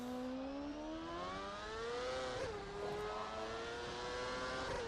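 CART race car engine in the rFactor 2 racing game, revving at part throttle as a rising, buzzing tone that climbs steadily, dips briefly, then climbs again, loud and alone.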